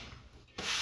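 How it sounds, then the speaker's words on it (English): Sandpaper rubbed by hand over model airplane wood planking, a short close scratchy rubbing that grows louder and brighter in its second half. "we don't worry about over sanding at this point"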